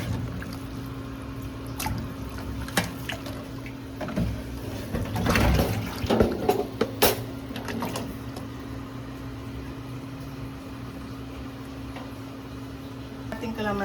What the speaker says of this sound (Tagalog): maghuhugas na naman po tayo ng kalamansi